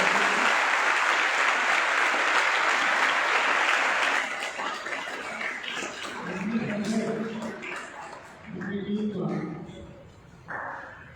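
Thunderous applause from a crowd at a yoga and motivation gathering, loud and dense for about four seconds before tapering off as voices talk over the scattered last claps.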